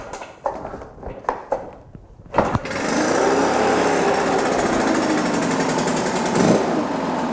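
A Stihl BR 800 X Magnum backpack leaf blower being started: a few sharp pull-cord clunks, then the engine catches and settles into a loud, steady high-pitched roar with a slight rev swell near the end.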